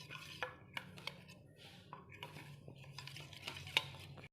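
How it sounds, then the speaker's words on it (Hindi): A spoon stirs a homemade vitamin C night cream mixture with cornstarch in a bowl before it goes on a double boiler, giving faint, irregular clinks and scrapes against the bowl in a quiet room. "अच्छे से मिक्स कर लेंगे"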